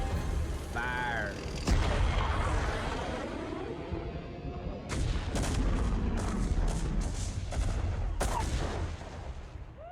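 Weapons firing in a StarCraft Protoss cinematic from the video game: loud, sharp blasts and booming bursts, several in quick succession after a sustained rumble, with a brief voice underneath.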